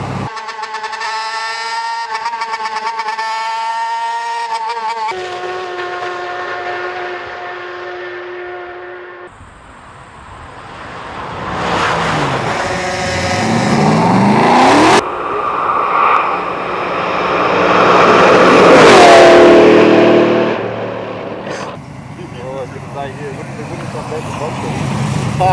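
A land speed car on a speed run at Goudies, New Zealand, accelerates through seven gears, its engine note climbing and dropping at each shift and rising in a loud roar, with a voice talking over it.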